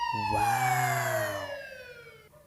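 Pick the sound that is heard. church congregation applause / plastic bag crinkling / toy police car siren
toy police car siren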